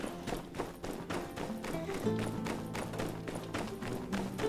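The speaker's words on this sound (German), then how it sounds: "Ist das ein Pferd?" Horse hooves clip-clop in the video game My Time at Sandrock as a steady, fairly quick run of hoofbeats under game music and ambience, moderately quiet.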